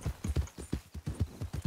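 Horse hooves clip-clop in the Western-themed video game RedM, a quick, steady rhythm of close, firm hoofbeats running continuously with no voices over them.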